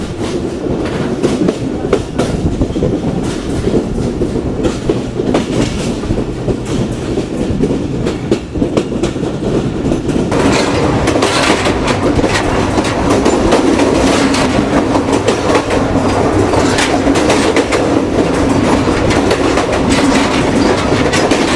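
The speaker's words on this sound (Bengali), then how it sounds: "আমাদের ট্রেন এই মুহূর্তে পার করছে হরিয়ান" Banglabandha Express, Rajshahi to Panchagarh, running on the rails in Bangladesh, heard from inside a coach: a steady loud rumble with a rhythmic clickety-clack of wheels over rail joints. The noise swells slightly partway through and has no voices.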